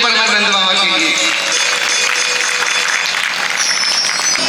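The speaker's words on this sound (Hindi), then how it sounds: "ताली बजाए पर नंद बाबा के लिए।" An audience at a Shrimad Bhagwat katha applauds for Nand Baba, a loud, steady wave of clapping mixed with devotional music and a sustained voice.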